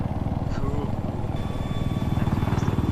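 Helicopter flying in the video game Battlefield 4, a steady throbbing rotor drone running loud and continuous throughout, with players talking over it.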